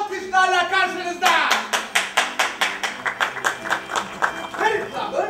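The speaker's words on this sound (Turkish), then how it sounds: "binbir suratlı adam Harry Plummer, alkışlarla karşınızda!" Theatre audience at a play bursts into applause after an announcer's voice, settling into rhythmic unison clapping with evenly spaced strong beats and cheering at the end.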